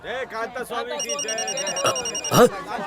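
A telephone rings in steady repeated trills while people talk over it, the ringing sitting behind the voices.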